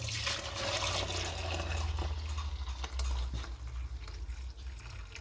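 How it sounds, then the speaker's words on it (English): Homemade bone broth poured slowly into jugs, a steady close liquid pour and splash running throughout with no talking. "Now the next thing I'm going to do is to pour it in to some jugs."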